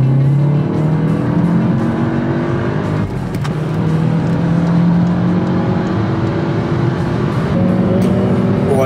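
A Seat Leon Cupra fitted with a Sachs performance clutch accelerates hard on a German autobahn, its loud engine note climbing steadily through rising gears, heard from inside the car without talk.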